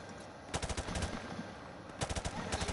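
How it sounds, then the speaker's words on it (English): Rapid automatic gunfire in Call of Duty Modern Warfare Remastered, two loud bursts of fast repeated shots over a constant battle din. "escape that terrible gunfire that I'm trapped in over there"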